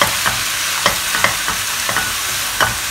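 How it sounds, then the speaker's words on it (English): Cooked instant noodles being stir-fried with sauce for a Hong Kong-style chicken chop dish, rhythmic spatula scrapes and tosses, roughly six or seven distinct strokes, over a constant close sizzle. "Just mix them up well."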